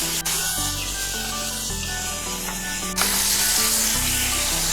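Onion and tomato sauté in a hot pan for hotel-style sambar, giving a steady, even sizzle that runs throughout, with a background tune playing underneath.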